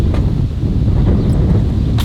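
Wind buffets an outdoor microphone on the 4th of July, a steady low rumble that fills the whole stretch with no talk, joined by a couple of brief, brighter gusts.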